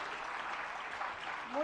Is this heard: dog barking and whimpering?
no